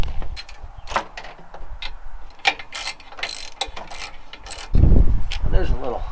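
A hand ratchet clicks in short bursts of rapid ticks during work on a carburetor from a salvaged vacuum, close and fairly clear, before a louder low clatter takes over near the end.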